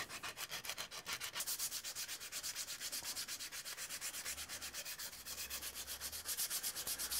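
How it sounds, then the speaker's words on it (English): Sandpaper rubbed hard and rhythmically across the end grain of a wooden atlatl handle, a steady close series of scratchy back-and-forth strokes with no voices. "sometimes it's better to put the sandpaper on your leg and sand this way, because you have to sand really hard to get that end grain sanded well."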